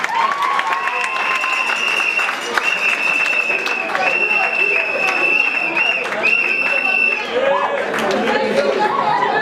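Wedding guests at a religious wedding reception applaud and chatter together, a dense steady crowd wash lasting throughout, with talk and clapping mixed evenly at close range.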